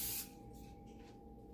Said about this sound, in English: So I'm going to spray my crock pot